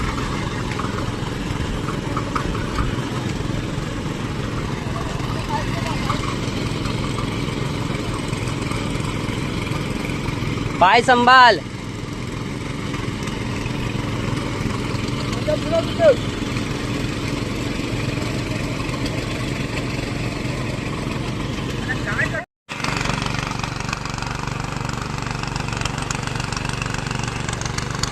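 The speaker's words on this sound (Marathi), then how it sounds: "अथर्व चालवतो ट्रॅक्टर." A tractor fitted with mud-field cage wheels, driven in a Konkan village, runs with a steady mid-pitched engine drone throughout, close and continuous, with a brief voice speaking over it.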